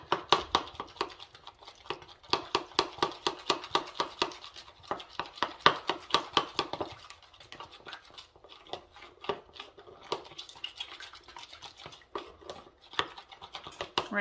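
A utensil mixes a large batch of fruit salad with honey in a bowl, producing a steady run of quick, close, wet scraping and clicking strokes with brief pauses.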